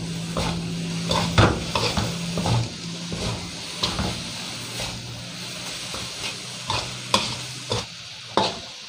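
Tamarind chili paste with salt, shrimp paste, fish sauce and sugar is stir-fried in a pan. A loud, close sizzle and hiss runs under repeated scraping and clanking strokes of the spatula, with no one speaking.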